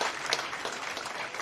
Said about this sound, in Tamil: நீங்கள் எல்லோரும் ஒரு பெரிய கைத்தட்ட அண்ணன் ரகுராமன் அவர்களுக்கு இந்த நேரத்தில் கொடுக்க வேண்டும்